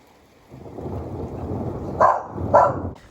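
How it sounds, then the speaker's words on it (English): Night thunderstorm with rain, a low rumbling wash of thunder and rainfall building after a quiet start, with two louder cracks near the end. "We had an epic thunderstorm"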